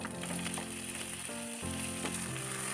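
Green chilies and ginger sizzle steadily in hot oil for a potato bhaji, a continuous close frying crackle with faint tonal music running underneath and no voices.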